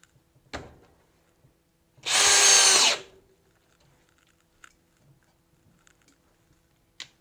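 DeWalt DCD778 hammer drill driving a pocket screw into wood, one loud, steady whine lasting about a second before cutting off, set between quiet handling clicks and taps.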